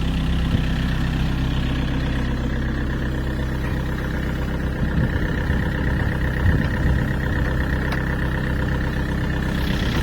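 A Yanmar VIO55-5B excavator engine idles steadily, a close, loud, even diesel rumble with a constant low hum and no change in revs.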